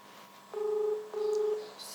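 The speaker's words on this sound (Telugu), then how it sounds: "ఒకసారి కాల్ చేస్తాం నంబర్ కూడా ఉంది ఇక్కడ" Two steady touch-tone beeps from a telephone keypad as a number is dialed, each held about half a second with a short gap, clear and fairly loud over faint background hiss.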